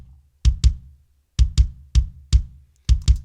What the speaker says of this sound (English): So in EXS24, I've picked out this kick.